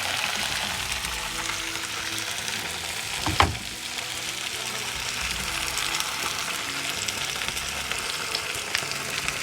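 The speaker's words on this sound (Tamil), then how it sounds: "சேர்த்துட்டு நல்லா வறுத்துக்கலாம்." Sliced mushrooms with salt fry in a pan with a steady, soft sizzle and one brief clatter partway through; no voices.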